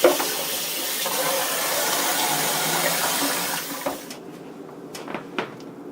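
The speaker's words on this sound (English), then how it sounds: "Give these noodles a quick rinse under cold water to stop the cooking" Steady rushing of cold tap water over noodles runs for several seconds, then cuts off, leaving a few light clinks and knocks in a quiet sink.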